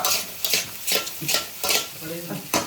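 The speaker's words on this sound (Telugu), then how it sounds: "బాగా మిక్స్ చేయాలి." Restaurant-style chicken fried rice is stirred and tossed in a hot pan, with about six loud, rhythmic scraping strokes over a continuous sizzle.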